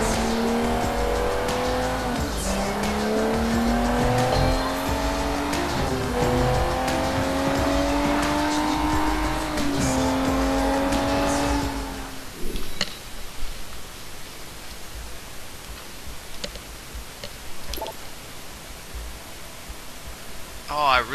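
Car engine in the Sleeping Dogs video game, a steady motor drone with rising and falling pitch as it accelerates and shifts, loud for about twelve seconds before cutting to a quieter ambient hiss with faint clicks.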